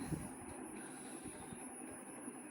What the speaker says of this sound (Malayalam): ട്രെയിന് വരുന്നുണ്ട് ട്രെയിന് വന്നുകൊണ്ടിരിക്കുകയാണ്